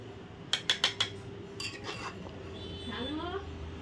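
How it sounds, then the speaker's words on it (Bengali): A spoon stirs food cooked in ghee in a metal pan, first with four quick, bright clinks against the rim and then with softer scraping and stirring, close by and moderately loud. "এখন নেড়ে দিচ্ছি"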